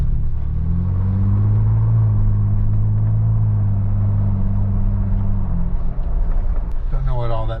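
A Ford Bronco Raptor engine winds up under acceleration, producing a steady, loud low rumble that holds for several seconds and then eases off.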